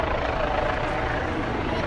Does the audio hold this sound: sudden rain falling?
no